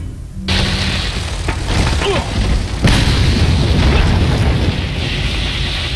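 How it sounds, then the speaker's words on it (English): A grenade goes off in Resident Evil 4 with a sudden loud boom that rolls into a long, dense rumble of blast noise lasting several seconds. "What we're gonna do is throw a grenade."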